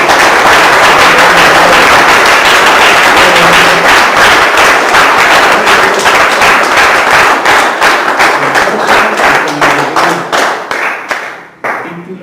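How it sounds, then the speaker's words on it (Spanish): A church congregation claps together in sustained, loud applause at a festive service, dense and steady before thinning out and stopping near the end. "Entonces demos un aplauso con gozo."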